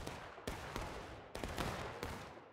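Musket fire in the War of Rights video game, several separate sharp reports in quick succession, each with a long rolling echo, loud and near-to-mid distance.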